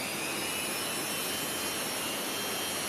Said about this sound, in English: So the Dremel, turn it on